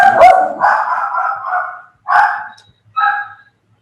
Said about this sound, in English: Someone accepted a delivery. Dogs went nuts.